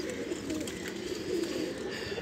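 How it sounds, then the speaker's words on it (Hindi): Soft, low cooing of pigeons repeating close by, with a breezy outdoor background and no talking. "ये इन कबूतरों के बच्चे"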